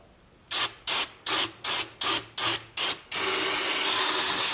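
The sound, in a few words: spraying brake cleaner on a Jeep axle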